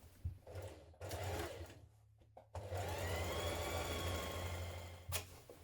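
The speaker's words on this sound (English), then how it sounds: "So let's stitch the seam first of all." A sewing machine runs a hoodie hood seam in steady whirring bursts, stopping briefly around the middle and then stitching on at an even pace, close and clear with no talking.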